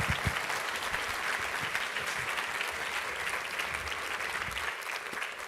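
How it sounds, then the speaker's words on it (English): A large audience at a university State of TXST address gives sustained, even applause for students. The dense, steady clapping lasts the whole stretch and fades slightly at the end. "let's give our students a round of applause"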